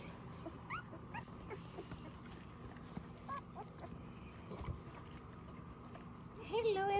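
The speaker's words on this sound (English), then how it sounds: "Puppies everywhere." Newborn puppies whimpering and yipping while their mother cleans them, with thin, rising high-pitched whines that come and go in short bursts over a steady low background, louder near the end.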